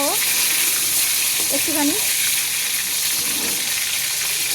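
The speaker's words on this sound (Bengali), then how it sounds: "লঙ্কা আর এই তেজপাতাটা আমি ফোড়ন দিলাম" Chili and bay leaf temper in hot oil, giving a loud, steady, close hiss of frying that lasts throughout, with a brief spoken word over it.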